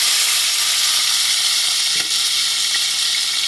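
Steak searing in beef tallow in a pan, with a loud, dense, continuous sizzle throughout the short stretch.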